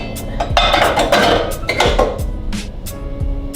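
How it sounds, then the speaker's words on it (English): Metal pots and pans clank and clatter as they are handled in a home kitchen, a close, loud run of sharp knocks and clinks with brief pauses between them. "So first step is you want to get your pots and pans."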